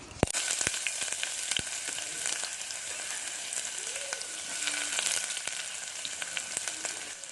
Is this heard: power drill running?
no